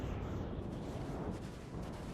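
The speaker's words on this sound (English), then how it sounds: "here comes our first return shots and the first casualties" Cannon fire rolls through a Total War: Thirty Years War battle, a dense, continuous low rumble of artillery with no distinct separate shots, loud and sustained throughout.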